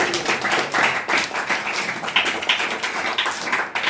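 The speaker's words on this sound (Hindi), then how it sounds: "एक बार इनके उत्साहवर्धन के लिए जोरदार तालियां" Enthusiastic clapping from a school audience at an Ozone Day activity, a loud, uneven flurry of many hands with sharp individual claps standing out, continuing steadily throughout.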